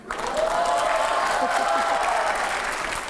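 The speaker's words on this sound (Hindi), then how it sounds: "जोरदार तालियां हो" Audience applause at a televised interview with Uma Bharti facing five editors, steady close clapping that swells quickly and holds for a few seconds with no talk over it.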